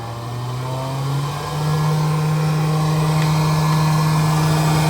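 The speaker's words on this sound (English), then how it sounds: "And now we got the warm blower, and that is cold." A homemade air conditioner's blower running close by, a loud steady motor drone and whoosh whose pitch steps up slightly after a second, then holds constant with no talk.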